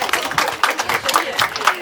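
Concert audience at a show in Truskavets applauding in steady, close clapping that fills the whole moment, with a voice speaking over it.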